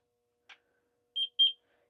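A heat press used for DTF shirt transfers, set hotter than its actual temperature, gives two short, high-pitched electronic beeps in quick succession after a faint click, in otherwise quiet surroundings.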